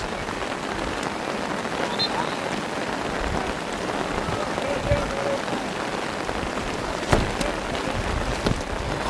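Steady rain pours down across an outdoor under-15 boys' soccer pitch, a dense even hiss of drops on the surface lasting throughout, with a few faint distant voices and short knocks rising briefly above it.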